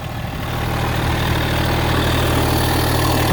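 A Massey Ferguson GC1710 sub-compact tractor engine runs steadily at around 2200 RPM, a constant low droning idle-like hum with no talk over it.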